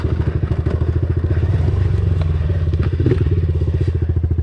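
A Honda CRF 110 dirt bike engine runs close by with a rapid, pulsing putter and light mechanical clatter, steady throughout.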